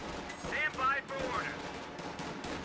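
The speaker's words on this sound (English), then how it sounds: "Another sniper shot connects" Gunfire during a video game battle between squads, including a sniper rifle shot, with sharp cracks and scattered shots mixed into busy battle noise and whistling tones.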